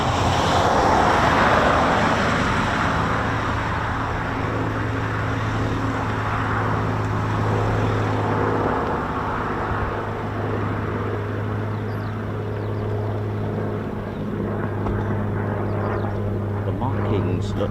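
A Battle of Britain Memorial Flight aircraft at RAF Coningsby lands with its gear down. The piston-engine drone is loud and sustained, then fades a little, while someone talks over it nearby.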